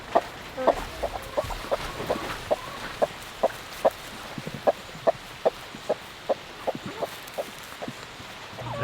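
Egg-laying hens at a movable pasture coop on wheels cluck in short, evenly spaced bursts, roughly two per second, close and steady over a soft outdoor background.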